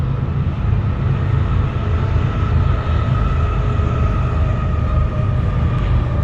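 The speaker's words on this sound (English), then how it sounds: "that's a locomotive on the old Santa Fe and Disneyland Railroad" A locomotive on the old Santa Fe and Disneyland Railroad, a steady loud low rumble of a passing train with sustained droning tones throughout, no talk.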